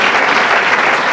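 Brief, loud burst of audience applause for a professor at a Spanish science night event, many hands clapping densely with no speech.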